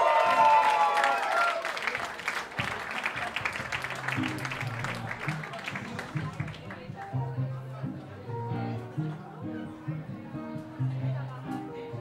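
Applause and crowd noise from a live club-band audience for a singer, loud at first and then thinning as the band starts playing and a voice speaks over it.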